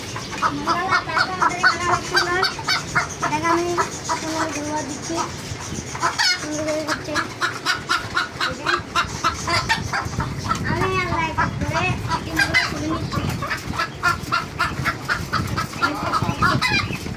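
Chickens cluck continuously and loudly close by, a busy flock of laying hens chattering, with people talking over them.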